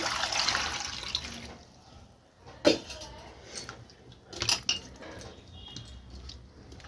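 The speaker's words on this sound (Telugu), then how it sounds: "వాటర్ అయితే పోసేసుకోవాలి" Water pours and splashes in a kitchen while bottle gourd is rinsed, with intermittent sloshing and a few sharp knocks against the vessel, fairly quiet and close.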